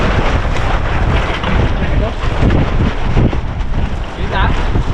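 Strong wind roars across a river with choppy waves, loud buffeting gusts on the microphone mixing with rushing water throughout.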